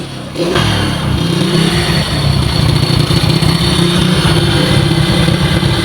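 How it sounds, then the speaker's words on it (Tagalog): A Honda XRM 110 motorcycle engine with a badly knocking, noisy motor starts up and runs loudly, a harsh steady clatter with slight revving that continues alone. "napakalakas ng lagatek ng kanyang makina"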